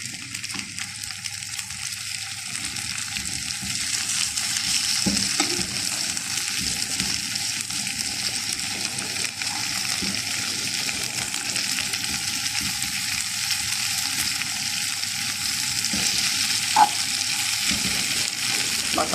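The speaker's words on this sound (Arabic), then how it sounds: "كده بقى هقلب البطاطس على الناحية التانية" Potatoes frying in a pan after being flipped, giving a constant, fairly loud sizzle with faint bubbling pops and a slight scrape near the end.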